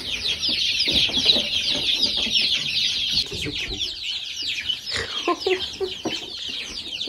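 Two baby ducklings cheep close by in a steady stream of high, rapid peeps, with soft rustling and small knocks underneath.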